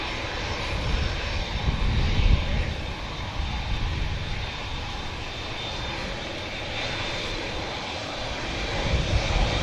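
An Etihad airliner takes off at an airport, a broad, steady engine roar heard from a distance that holds roughly constant with slight surges throughout, no voices present.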